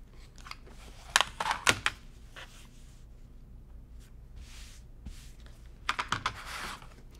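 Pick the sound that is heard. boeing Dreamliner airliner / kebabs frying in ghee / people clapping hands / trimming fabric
trimming fabric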